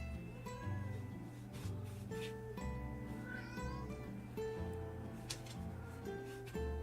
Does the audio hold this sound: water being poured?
no